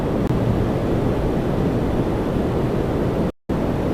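An Air Canada Boeing 787-9 Dreamliner heading to Frankfurt from Toronto Pearson gives a loud, constant broadband jet roar, close by and unbroken apart from a brief dropout near the end.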